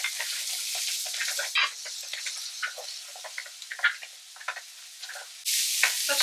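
Diced shallot and golden raisins tumbling into a pan, a run of light patters and scattered clicks, then a sudden burst of hiss near the end.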